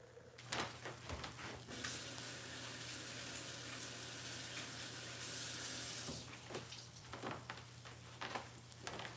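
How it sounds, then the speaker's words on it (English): Tap water runs steadily over a hand rinsing off vinegar and olive oil in a kitchen sink, a continuous close hiss of water lasting several seconds with small splashing changes and no talk. "I gotta go rinse my hand."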